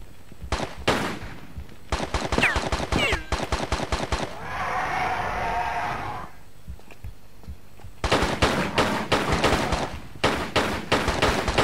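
Gunshots in the Tomb Raider 3 video game ring out in rapid loud clusters of sharp cracks, a burst at the start and another toward the end, with a noisy lull between.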